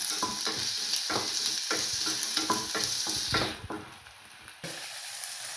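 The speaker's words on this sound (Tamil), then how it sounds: "இதுக்குள்ள வந்து வெங்காயம், உள்ளி, பச்சை மிளகாய் போடுறோம். வந்து போட்டுட்டு இதை வந்து வதக்குறோம்." Onion, garlic and green chili sauté in a pan with steady sizzling and repeated scraping stirs for the first three and a half seconds, then the frying settles into a quieter continuous hiss, with no voices.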